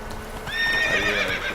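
A horse in the video game The Witcher 3 clip-clops and lets out a loud, close whinny with a wavering pitch, clear and alone without talk.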